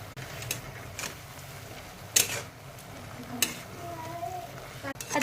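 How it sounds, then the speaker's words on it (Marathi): Hadga flower bhaji being stirred with salt in a pan, with a soft sizzle under light scraping of a spoon against metal and a few sharper clinks, close and fairly quiet. "आता आपण चवीनुसार मीठ टाकून परत 1-2 मिनिटं परतून घेऊया"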